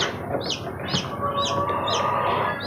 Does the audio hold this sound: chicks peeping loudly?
yes